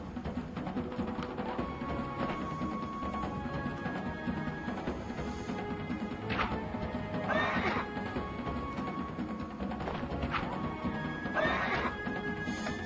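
Horses in Warriors & Heroes of Might & Magic on PS2 neighing several times over a continuous bed of galloping hooves and battle noise, fairly quiet and steady throughout.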